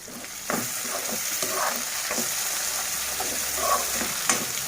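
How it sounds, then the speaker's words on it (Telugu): Tomatoes frying in oil in a pot for a mutton and drumstick curry, giving a steady close sizzle with occasional stirring scrapes and soft bubbling pops throughout. "టమాటాలు కూడా బాగా మగ్గుతున్నాయి"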